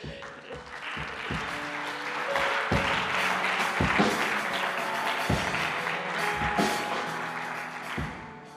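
Church congregation applauding, a steady crowd clapping with sharp individual claps standing out, fairly close, with faint voices mixed in.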